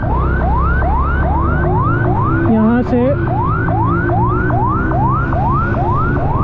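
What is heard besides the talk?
ambulance siren on a road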